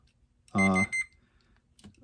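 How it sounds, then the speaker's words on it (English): A multimeter on continuity mode gives a single clear electronic beep, about half a second long, while testing the wiring of a Rescue 911 pinball machine. A fainter second tone follows it in a quiet room. "Take our multimeter, put it on continuity. And then when they beep, we know which wire goes where."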